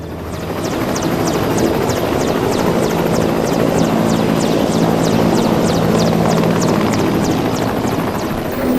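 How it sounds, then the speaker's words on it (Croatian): A Peruvian Air Force military helicopter is heard close and loud, its rotor chopping in a fast, even rhythm over a steady engine whine that holds throughout. "Raspolažu s nekoliko helikoptera poput ovoga."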